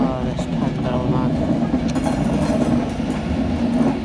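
A Class 390 Pendolino electric train, unit 390148, pulls out of Manchester Piccadilly station with a steady, loud rolling rumble and wheel noise that carries throughout.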